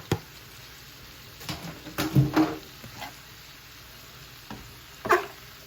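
Onions and peppers fry with ground beef and sausage in a pan, a low steady sizzle broken by several clattering stirs and scrapes of a utensil.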